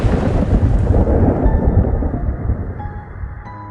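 Thunder rumbles loud and deep with rain for a dark horror story, a heavy rolling roar that slowly fades away toward the end, with no voices over it.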